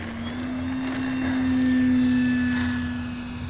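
E-flite Commander mPd RC airplane taking off from grass, its electric motor whining as a steady high hum that swells louder as it passes close, then eases off, alone without talk.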